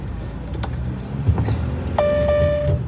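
A car drives through heavy traffic in rainy weather, with a steady road and engine rumble throughout, a brief thump midway, and a sustained electronic tone or chime appearing near the end.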